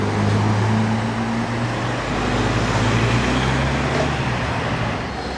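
A supercar rolls by at night in Monaco, its low engine drone steady and fairly loud amid the surrounding traffic noise, with no voices.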